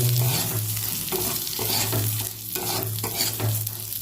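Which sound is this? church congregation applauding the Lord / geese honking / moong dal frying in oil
moong dal frying in oil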